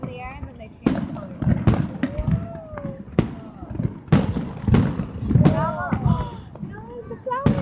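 Fireworks going off at an outdoor show in Rapid City, with repeated booming bursts and crackles, some close and loud, mixed with whistling rising shots, as children and adults talk and shout throughout.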